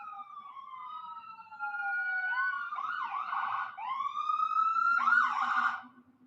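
A police siren sounds loud and close, starting with a smooth wail and then switching to rapid repeated yelps before cutting off at the end.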